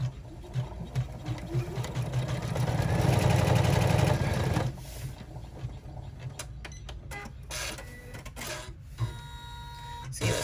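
A sewing machine stitches fabric with a steady mechanical whir that builds, then breaks into scattered clicks and knocks as the machine is shifted around.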